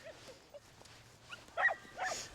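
A dog gives a few faint, short yips and barks at a distance, quiet and scattered over a low background.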